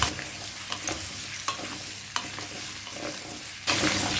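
Chopped vegetables stir-fried over a high gas flame with mung dal, giving a steady sizzle broken by occasional scrape-and-clack stirring strokes, close and fairly loud throughout with no talking.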